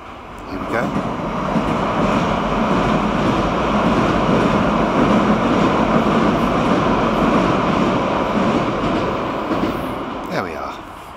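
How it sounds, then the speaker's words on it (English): A London Underground Piccadilly line train rumbles steadily past close by, a loud continuous roar of wheels on rails that swells and fades at the ends. "I wonder if we can get a train to go past. It's the Piccadilly line"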